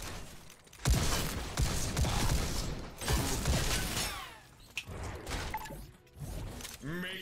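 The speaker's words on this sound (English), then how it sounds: "that was a random explosion" An explosion goes off in the VR shooter Robo Recall: sudden loud blasts and crackling debris amid ongoing mechanical game noise and clanks, with several bursts scattered across the scene.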